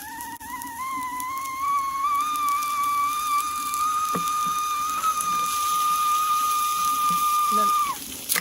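A Ghillie kettle's shrill whistle holds a steady high pitch for about eight seconds, wavering slightly at the start, then cuts off abruptly, with bubbling water underneath.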